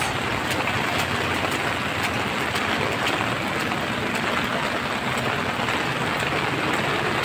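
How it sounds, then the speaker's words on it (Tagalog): Steady, dense hiss of heavy rain pouring continuously, loud and close, with no voices. "Malakas na yung ulan."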